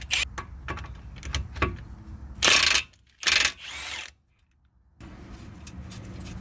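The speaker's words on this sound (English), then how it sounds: "I'm just gonna use my impact to crack it loose." An impact wrench cracks loose the outer tie rod nut on a Toyota Highlander, giving two short loud bursts of hammering among quieter ratchet and tool clatter, close by.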